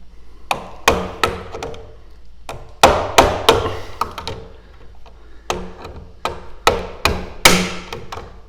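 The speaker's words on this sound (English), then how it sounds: "just stick a screwdriver in like this and hit it with a hammer" A hammer strikes a screwdriver held against the knockout of a metal electrical box in a basement, giving sharp, loud metallic whacks in irregular bursts, often two or three quick hits followed by short pauses, with no talking.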